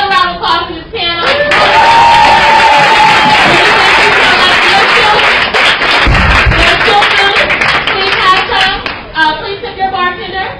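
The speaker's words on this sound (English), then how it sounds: "Another round of applause for this panel" An audience at a roundtable event in Harlem, New York gives a panel sustained, dense applause that swells and carries on for several seconds, with brief talk before and after it.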